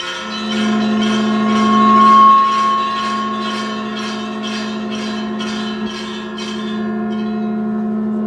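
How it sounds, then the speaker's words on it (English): A traditional ship's bell rings repeatedly at an international fleet review ceremony, each clear metallic strike ringing out in a steady series while a long, sustained resonant tone hums underneath. "inaugurate the International Fleet Review 2022 by ringing the traditional ship's bell"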